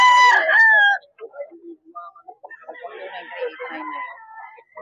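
A rooster crows loudly and close for about a second among chickens offered for sale, followed by softer scattered clucks and background voices at a poultry market.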